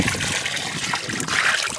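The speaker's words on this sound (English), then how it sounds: "when you pour your tea in" Worm tea is poured into rainwater, giving a short continuous trickling, splashing stream of liquid, close and fairly loud.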